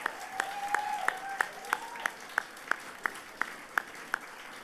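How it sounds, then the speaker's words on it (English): At the Excellence in Volunteering Awards 2013 ceremony, a sparse, evenly paced series of claps sounds faintly for the event organisers, with about a dozen distinct strikes over a soft, tonal background. "So please, a big round of applause for really bringing this together."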